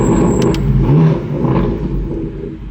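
A car pulls away nearby, its engine rumbling loudly and revving slightly as it moves off, with a brief high whine early on and no talking.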